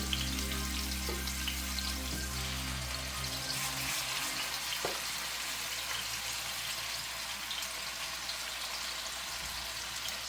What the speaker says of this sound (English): Listen for that sear.